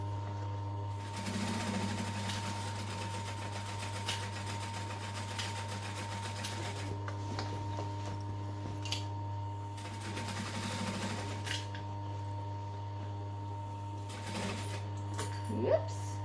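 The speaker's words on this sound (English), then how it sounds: "I'm then going to just sew a second seam next to that just as an added support." A home sewing machine stitches a second reinforcing seam on a fabric duffel bag in two short whirring bursts over a steady electrical hum, with quiet handling noises and pauses between runs.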